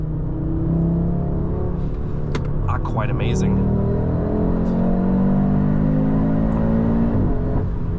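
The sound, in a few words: Audi RS3 engine and exhaust while cornering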